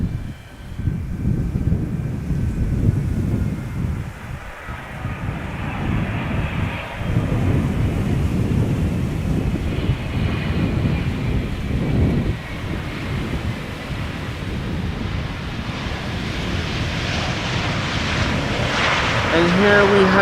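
A KLM Boeing 777-200, registration PH-BQC, arrives at Amsterdam Schiphol Airport, its jet engines making a broad steady roar that swells toward the end, mixed with wind buffeting on the microphone and speech.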